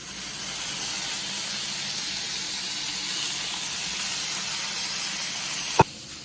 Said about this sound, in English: I'm going to cook bacon